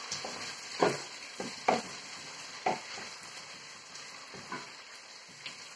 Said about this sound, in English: You're going to make sure you stir fry this tomato paste